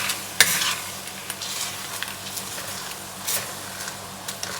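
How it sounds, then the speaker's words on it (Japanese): A utensil scrapes burnt bits and stirs in a hot pan over a soft continuous sizzle while homemade Worcestershire sauce is made, with a sharp clink near the start and scattered light scrapes after. "焦げついてるのはこそげて溶かしていってください。"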